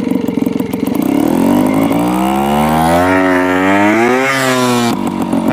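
Motorcycle pulling away in first gear, its engine note climbing steadily in pitch as it accelerates, loud and close, with a sharp drop near the end, no talking.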